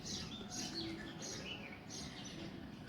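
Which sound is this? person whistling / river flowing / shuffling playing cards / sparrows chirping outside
sparrows chirping outside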